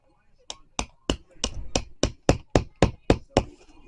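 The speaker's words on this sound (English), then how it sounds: "We're gonna grab this big hammer" A big hammer strikes a pair of AirPods about a dozen times in a steady rhythm, each hit a sharp, close, loud smack with no talking.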